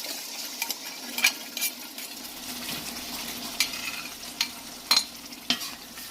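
Tatashe peppers frying in a large pot for egusi soup, a steady low sizzle with scattered sharp clinks and scrapes of a spoon stirring against the pot, close by with no talking.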